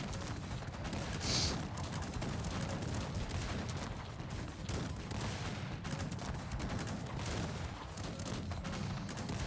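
Dense, continuous battle noise with repeated booming cannon shots and crackling gunfire, loud and unbroken throughout, from the strategy game Cossacks 3.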